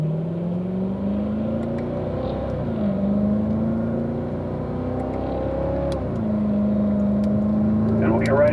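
Several cars move onto a race track, engines droning and rising as they shift up through the gears, a steady close motor hum with gear-change dips, while someone talks over it.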